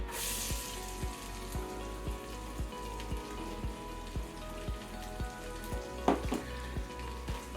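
Celery and shallots sizzle in a pan for clam chowder, giving a steady crackling fry with a faint regular ticking through it, close and with no talk.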